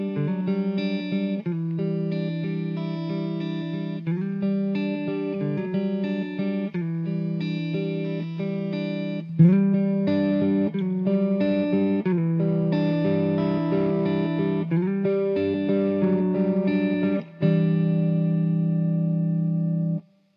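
Electric guitar through a TCT50 amp with mild crunch, sustained chords and melodic lines sounding warm and slightly gritty, played alone with steady loudness.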